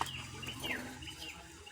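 Chickens cluck and squawk softly nearby, short bursts of fowl calls over a quiet low hum.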